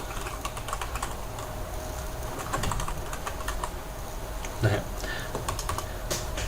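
Clicks from a computer keyboard tap out a code comment in Visual Studio Express 2013, a quiet, fairly steady stream of keystrokes over a soft background hum, with one slightly louder press near the end.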